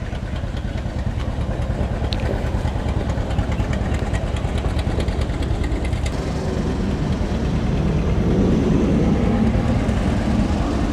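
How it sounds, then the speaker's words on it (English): A 1937 John Deere antique tractor engine idles steadily throughout, a continuous low rumbling chug at constant loudness with no talk over it. "this is the tractor that my grandfather would have operated"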